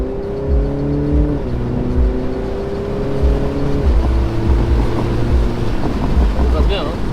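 A 2023 BMW Z4 G29 in Sport Plus mode pulls hard as the engine note climbs through the gears, with clear drops at each shift and wind rush, loud and close from inside the car.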